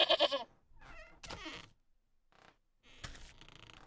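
A goat in Wytchwood gives a few short, bleating cries in quick separate bursts, with faint creaks and gaps of quiet between them, fairly close and not very loud.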